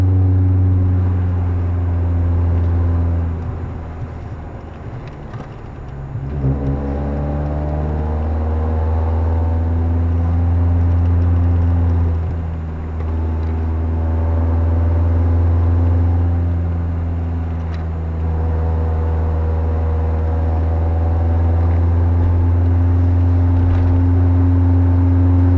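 A first-generation Kia Sportage, a small four-wheel-drive SUV, driving curvy roads: a loud steady engine drone from inside the cabin, pitch rising and falling with throttle through the turns.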